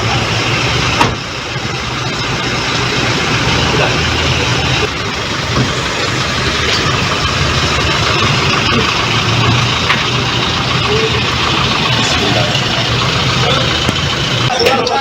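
A car engine idles and rumbles low beneath a busy crowd at a gate, with many people talking and calling out over it the whole time.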